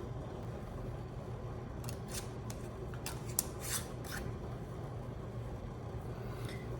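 A metal lid and band are fitted onto a glass canning jar of Alberta peaches, with a few faint, short scraping and clicking sounds in a quiet room.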